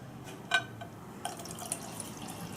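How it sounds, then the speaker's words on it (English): Water trickles faintly into an MRE ration pouch, making soft drips and small splashes, with a brief louder spatter around half a second and a few lighter drips later, all close and quiet. "That might need a bit more water"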